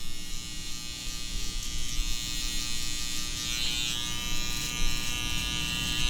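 Electric hair trimmer buzzing steadily close up as its blade corner cuts hair during a fade haircut, a continuous motor drone with slight changes in pitch and no talk.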